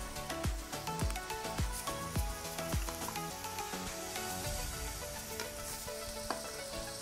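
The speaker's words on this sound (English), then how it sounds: "So we have our olive oil heating up in this pot, and we are going in with our carrots and our onion and celery" Carrots, onion and celery sizzle in hot olive oil in a pot, a soft continuous hiss set beneath a rhythmic backing of music with regular percussive hits.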